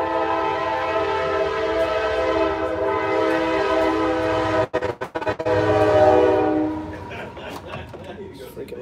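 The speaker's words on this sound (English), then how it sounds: "This train about to come by." A freight train rolls past on the busy main track through Shreveport, its horn blaring in long loud sustained blasts close by, then rumbling and clattering as the cars pass.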